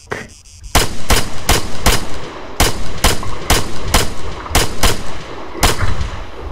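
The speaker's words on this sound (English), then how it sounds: "Is that you shooting?" Loud video-game gunfire cracks out in sharp, repeated bursts of single shots and short volleys, close and punchy, with no one talking.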